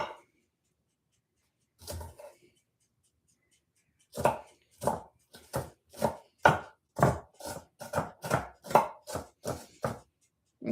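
A knife chops onions on a cutting board for spaghetti, one isolated chop followed by a steady run of about a dozen crisp, close, evenly spaced strikes.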